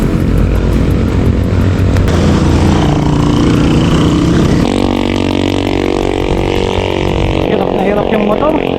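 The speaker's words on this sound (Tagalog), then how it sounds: "Hirap na hirap yung motor." A motorcycle engine labors loudly up a long, steep climb, its strained drone steady throughout and shifting pitch about halfway, with wind noise and a voice speaking over it.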